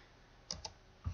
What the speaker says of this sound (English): So you can then just start typing the names of your students.